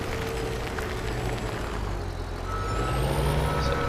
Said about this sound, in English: they would just use a front end loader in the yard like this